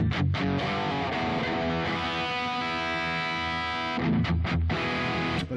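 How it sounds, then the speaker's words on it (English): Heavily distorted electric guitar through a Hiwatt tube amp rings out with thick sustained chords and crunchy attacks, a saturated tone played alone. "the heavy sound of the distorted Hiwatt amp"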